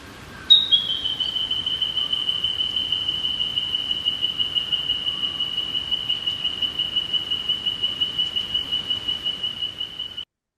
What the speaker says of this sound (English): this species will keep on calling for sometimes half a minute, even a minute and a half, very loudly, with that quick repetition of notes